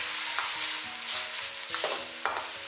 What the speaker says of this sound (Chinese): 再把苦瓜和木耳给倒进来，给它翻炒均匀